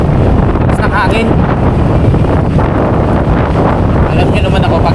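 Loud, strong wind blasting against the microphone in a continuous heavy rumble, with faint voices partly buried beneath it.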